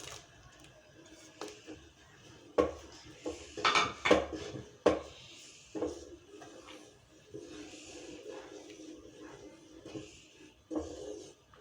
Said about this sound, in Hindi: अब मैं डालूंगी इसमें ये अपने ड्राई फ्रूट